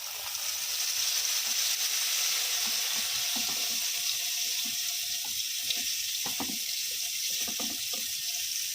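Bread slices dipped in pakoda batter sizzle in hot oil with a steady, bright hiss. Soft bubbling pops sound close by and continue throughout, with no talking.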